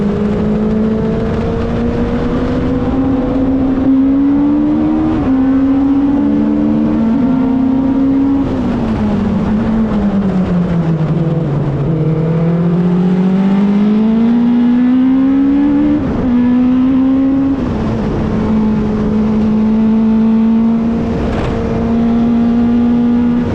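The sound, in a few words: race car engine during a race lap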